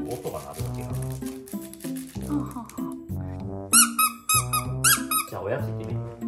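A pink squeaky dog toy lets out several quick high squeaks in short bursts midway, heard over a loud, continuous music background.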